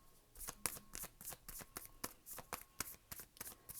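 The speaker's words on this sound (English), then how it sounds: "I'm going to shuffle one more time." Tarot cards being shuffled by hand, a quick run of crisp riffling and slapping bursts in an uneven rhythm, close and fairly quiet, with no voice over it.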